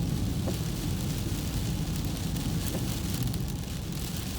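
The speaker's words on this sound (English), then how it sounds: "I'm hoping it won't be raining that bad, or it will let up" Steady rain pours down continuously, a dense even hiss with no pauses, fairly close and moderately loud.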